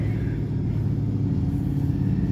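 A 2017 Ford Mustang 5-liter at a drag race, a loud steady engine roar with a deep rumble throughout, heard fairly close.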